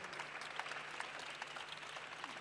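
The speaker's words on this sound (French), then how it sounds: "On les applaudit aussi." Audience applause at an environmental business awards ceremony, a steady dense patter of many hands clapping throughout, moderately distant and fairly faint.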